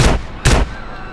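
Two heavy, booming gunshots from the video game GTA San Andreas fire in quick succession, each with a short rumbling tail, loud and close.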